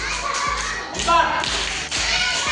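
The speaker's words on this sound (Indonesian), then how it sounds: "kita akan melakukan speaking tepuk Pancasila dimulai dari 1 sampai 5" A class of children performs the tepuk Pancasila clapping routine, with brisk, regular hand claps and taps repeating close by amid children's voices and classroom shuffling.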